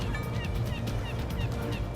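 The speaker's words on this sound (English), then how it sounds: "You hear foghorns in the distance, the seagulls." Squawking seagull cries in World of Tanks repeat over a dense, heavy low rumble of a boat at sea, the calls faint and scattered above the constant background.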